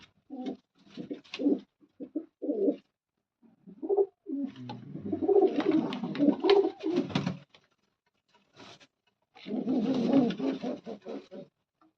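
Pigeons coo in soft, low, throaty bursts, some longer rolling calls, close by with quiet pauses between them.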